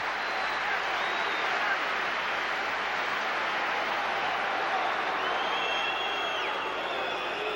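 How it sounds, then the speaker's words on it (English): A packed football stadium crowd cheers and roars continuously during a Manchester United versus Fenerbahçe match, dense and sustained with whistles and whoops rising within it, a commentator's voice faintly underneath. "Crowd urging him on."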